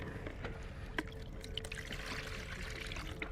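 Water trickles and pours in short, gentle splashes close by on a fishing outing, a quiet liquid sound with a few small spattering bursts and no talking.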